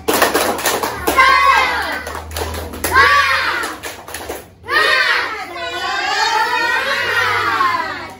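Children in a class chant a tepuk semangat cheer in unison, bursts of rhythmic clapping and taps between rising sung phrases, near and energetic, ending in a sustained group shout.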